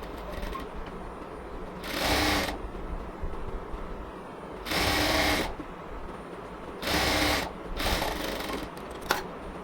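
Sewing machine stitching the folded hem at the mouth of a puff sleeve, running in four loud bursts of rapid whirring between quieter pauses with faint handling noise.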